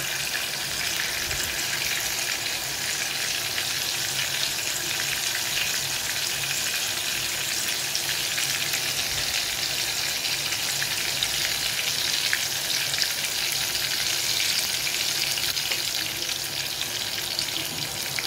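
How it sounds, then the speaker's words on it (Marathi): Oil bubbling and frying with tomatoes softening in a pan while cooking a peanut-based village-style dish, a steady, dense sizzle that continues evenly throughout with no talking. "तुम्हाला आवाजही येत असेल तेलाचा उकळण्याचा"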